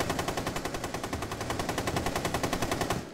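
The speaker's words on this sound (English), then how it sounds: "Oh, you have a light machine gun? Yeah. That shoots fast for a light machine gun." A light machine gun fires in Rainbow Six Siege in one sustained, rapid, evenly spaced burst of shots that runs for about three seconds before stopping abruptly.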